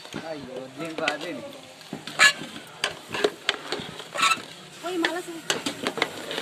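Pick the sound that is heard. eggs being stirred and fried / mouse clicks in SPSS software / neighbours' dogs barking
eggs being stirred and fried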